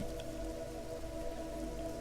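A rain sound effect playing faintly in the background of a Vampire: The Dark Ages tabletop role-playing session, steady soft patter with a low hum underneath, no voices heard.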